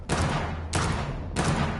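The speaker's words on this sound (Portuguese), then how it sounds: "Eu vou dar um tiro com esse revólver aqui." Three loud revolver shots in the video game Vampyr, each a sharp blast with a short decaying tail, spaced about 0.6 seconds apart and heard alone.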